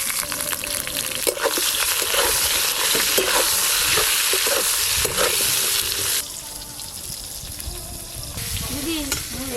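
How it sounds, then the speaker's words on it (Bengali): Small brinjals coated in salt and turmeric fry in hot oil, giving a loud steady sizzle with stirring and scraping that eases after a few seconds into a quieter bubbling hiss. "বেগুন দিয়ে লোটে মাছ রান্না করার জন্য বেগুনগুলো লবণ হলুদ মাখিয়ে একটু ভালো করে প্রথমে ভেজে নেব"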